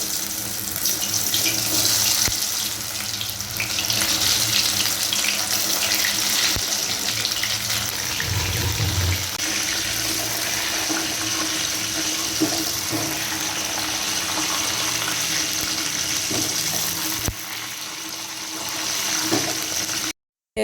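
Marinated mushroom pieces for mushroom 65 sizzle in hot oil, a steady dense hiss that carries on without voices and stops abruptly at the end.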